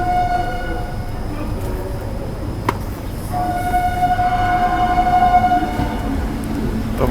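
The Prayagraj–Dadri summer special train, 02417, pulls out of Tundla Junction, its long horn sounding in two blasts over a continuous rumble of rolling wagons nearby, with no voices.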